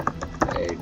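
Rapid keystrokes on a computer keyboard while entering Solidity code, a handful of close, crisp clicks over a brief, quiet moment.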